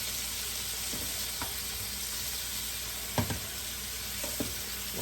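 Shrimp searing in a pan, a steady hissing sizzle under a constant background hum, with a few soft knocks of a utensil, moderately faint and alone.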